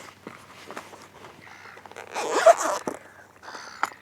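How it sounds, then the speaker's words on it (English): An e-bike camera bag's top section being unzipped, a short rasping zipper pull that builds to a louder burst midway, with light handling rustles around it and no talking. "I'm going to unzip that"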